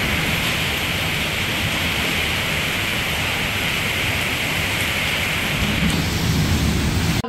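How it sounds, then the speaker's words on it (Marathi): Heavy monsoon rain in Maharashtra, a dense, loud, unbroken roar of downpour filling the space, with no voices. "एवढा पाऊस पडतोय"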